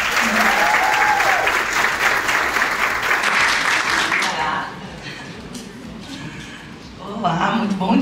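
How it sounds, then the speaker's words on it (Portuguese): An audience at a women entrepreneurs' gathering in Sorocaba applauds to welcome a speaker, loud steady clapping with a few voices that eases partway through, then swells again. "Recebam então, com toda energia, com todo carinho, com uma salva de palmas, Letícia Torzek."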